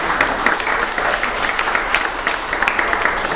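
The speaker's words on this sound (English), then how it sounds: "Please give them a round of applause." Audience applause for two public servants at a grand opening day, a steady dense clapping from a crowd that stays even and loud throughout.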